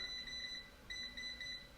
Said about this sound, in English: I'm going to touch the timer.